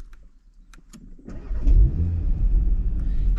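An Audi TT-RS Iconic Edition starts up close by, a brief quiet whir giving way to the five-cylinder engine catching with a loud, deep bark that settles into a steady, rumbling idle.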